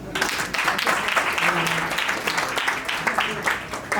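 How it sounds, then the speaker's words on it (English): An audience claps for graduating students at a graduation ceremony, a dense crackle of hand claps lasting about four seconds, with voices faintly mixed in under it. "Is there any clap for them?"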